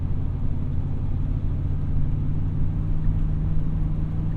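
Oldsmobile Cutlass Supreme 442 engine pulling at roughly half throttle, a steady, loud low rumble that holds even throughout with no breaks or talk.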